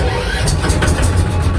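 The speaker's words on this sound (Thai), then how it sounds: "เดี๋ยวซิสตาร์ทให้ฟังนะครับเสียงเครื่องนะครับ" A tuk-tuk's small engine chugs loudly and roughly up close, a sputtering low rumble just after a hand start.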